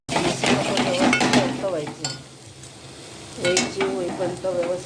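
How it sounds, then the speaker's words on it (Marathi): A spoon scrapes and stirs spiced masala in a hot pan while it sizzles, for patwadi; the stirring comes in irregular bursts of close, clattering scrapes, with a quieter pause in the middle. "त्याला हलवायचं आपण पण व्यवस्थित हलवत राहायचं त्याला"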